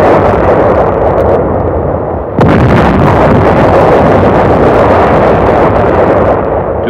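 Naval and aerial bombardment at Inchon in 1952 rumbles loudly in a continuous barrage of blasts, with a sharp heavy explosion midway followed by dense, booming noise.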